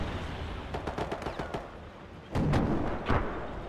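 Bren light machine gun from the ImmersiveSounds mod fires in a 3v3 video game match: sharp bursts of rapid shots, several quick rounds early, then louder heavier blasts with rumble toward the end.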